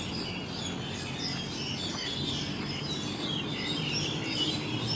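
Many birds chirping together in a steady, continuous chorus, moderately loud and unbroken, with no talking over it.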